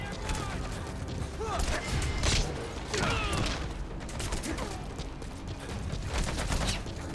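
Gunfire in Metal Gear Solid V: The Phantom Pain, a dense, continuous clatter of shots and mechanical rattles mixed with game ambience, with voices speaking over it.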